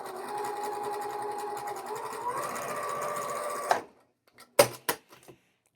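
A sewing machine runs steadily, stitching a line across a row of small quilt fabric pieces, then stops, followed by a few sharp clicks and handling taps in the quiet.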